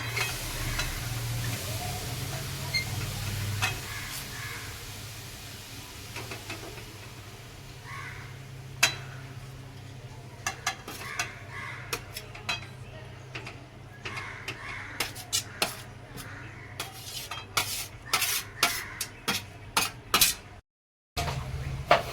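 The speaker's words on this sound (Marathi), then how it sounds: "कढईत छान तूप टाकलंय आणि गाजराचा जो किस करून घेतलेला आहे तो आपण याच्यामध्ये टाकतोय" Grated carrot frying in hot ghee in a kadhai, with a steady low sizzle throughout, joined later by sharp scraping and clanking of a spoon stirring against the pan, close and without talk.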